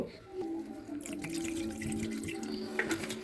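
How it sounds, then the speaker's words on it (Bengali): Water is poured into a pot of mutton cooked with Kashmiri chili, giving a steady close splashing and trickling stream that continues throughout, with no talking. "এবার একটু এতে জল দিব"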